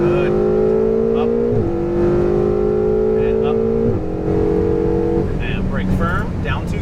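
Ferrari 488 GTB engine pulls hard at full throttle on a race track, a loud rising tone broken by quick upshifts, while a nearby voice talks over it.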